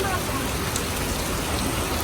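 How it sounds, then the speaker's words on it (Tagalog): Dense, steady rain pours without a break, a broadband wash of heavy downpour filling the whole moment with no clear voices. "dito po kami nagsusundo kaso lang ang lakas ng ulan eh"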